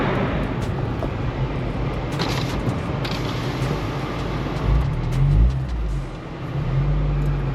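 A four-wheel drive vehicle climbs a hill, its engine a steady low rumble with creaks and mechanical rattles throughout, swelling slightly partway through and running on without speech.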